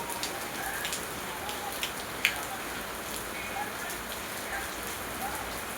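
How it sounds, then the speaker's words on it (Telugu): Steady rain falling, a soft continuous hiss with occasional sharper drop hits, fairly quiet and even throughout. "వాన పడుతున్నది"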